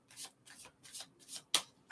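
Soft, papery riffling of tarot cards being shuffled in quick, repeated bursts, close and quiet, ending with two sharper snaps.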